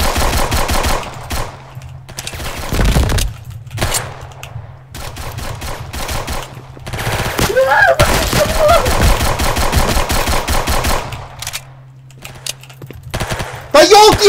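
Rapid automatic gunfire in the Roblox game Robber rattles in repeated bursts separated by short pauses, loud and close, with brief voice-like sounds between volleys.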